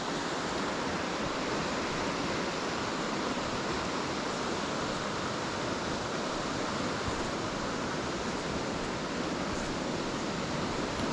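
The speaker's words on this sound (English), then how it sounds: "so you've got some nice, fast moving water here now" Fast-moving water of the River Wansbeck rushes in a steady, dense broadband roar, close and continuous throughout with no voices.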